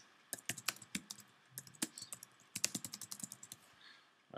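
Fingers type on a computer keyboard while setting up a musician website, a close quick patter of key clicks in bursts with brief pauses, no talking.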